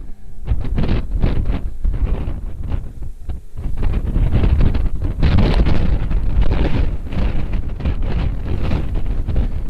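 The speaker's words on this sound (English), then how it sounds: "It's so windy here." Strong wind on Adak Island in the Aleutians buffets the microphone in a loud, continuous roar with gusty surges and no pauses.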